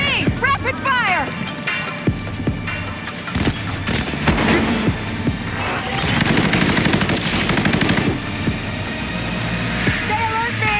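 Rapid automatic gunfire in the video game Cyberpunk 2077 Phantom Liberty, loud sustained bursts of shots with explosions and combat effects, while voices shout over the chaotic firefight.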